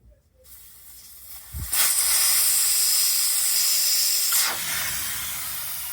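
Compressed gas rushes out of an unscrewed Clik valve in a loud, sustained hiss that starts abruptly after a small click, holds steady for a few seconds, then tapers off slightly.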